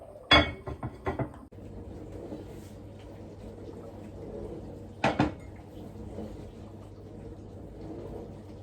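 A metal lid clanks onto a pot of steak and ale stew topped with dumplings: a sharp clatter, a few lighter knocks, then another double clink after a quiet stretch with low background hum.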